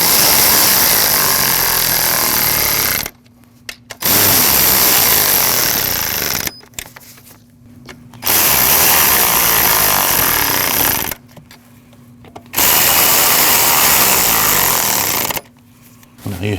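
A power tool snugs the intake manifold bolts on a 2014-2023 Jeep Cherokee in four loud, close, sustained bursts separated by short pauses, with no talk.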